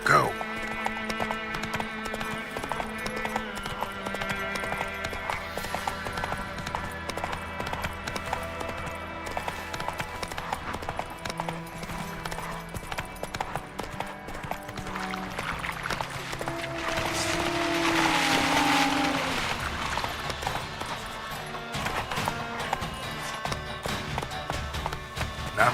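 Horse galloping in The Witcher 3 video game: steady, continuous hoofbeats run throughout under a dense bed of in-game music, swelling briefly toward the end.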